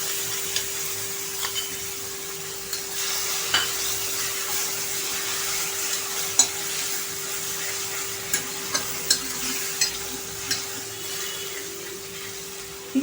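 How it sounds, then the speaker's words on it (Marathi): Onion paste and tomato paste fry in a pan for a bhindi masala, giving a steady low sizzle under a constant hum, broken by scattered light taps and clicks of stirring. "ही पण आपण छान फ्राय करायची आहे."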